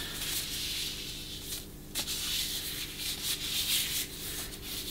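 Boiled linseed oil rubbed over a metal axe head and blade with a cloth, a continuous soft hissing friction with brief pauses and swells, close and moderately quiet with no talking.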